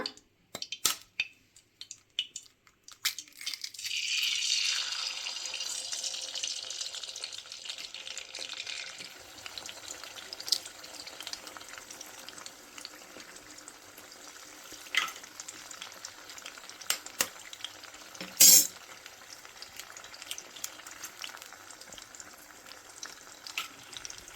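Eggs go into a pan with four to six spoons of hot oil for egg rice and are stirred. A close sizzle flares up, then settles into a quieter crackle with occasional scraping and clinking.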